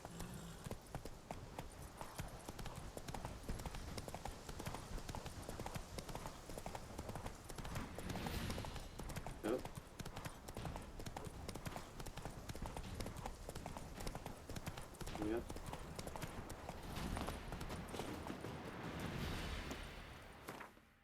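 Roach, a horse in The Witcher 3: Wild Hunt on PlayStation 4, galloping with rapid, steady hoofbeats in a continuous clip-clop rhythm, moderately near, beneath game ambience and a brief voice.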